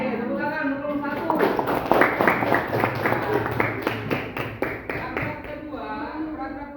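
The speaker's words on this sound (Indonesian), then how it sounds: "Oke, tepuk tangan nomor satu." A classroom of students claps together in a quick patterned burst, with a run of sharp, close claps rising and then fading while voices chatter underneath.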